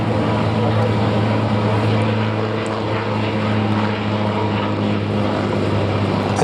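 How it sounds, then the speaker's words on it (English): A propeller-driven aircraft climbs at the Duxford air show, its engine a steady, loud droning roar that holds unbroken and close throughout, with no voices over it. "The aircraft will go on climbing."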